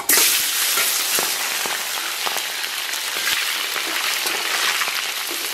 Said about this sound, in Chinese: 油温六成热，咱们把葱姜蒜给它下里边。